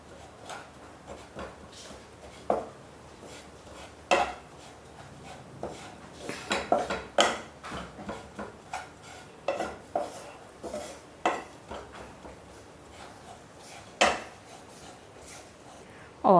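Besan masala stuffing for stuffed ridge gourd roasts in a pan, with a spoon clinking and scraping against the metal in scattered, uneven strokes, close and moderately loud over a quiet background.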